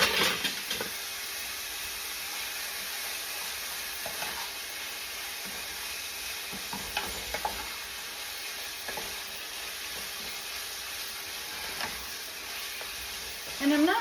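Seasoned meat browns in a pot for chili, salted and peppered and starting to render fat, giving a steady close sizzle and hiss with intermittent stirring clatters and scrapes.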